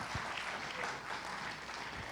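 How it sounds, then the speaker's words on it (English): An audience at a church gathering applauds in a steady wash of clapping with no distinct pauses, faintly mixed with voices. "can we give these guys a big round of applause?"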